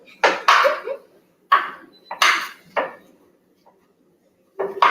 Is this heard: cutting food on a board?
yes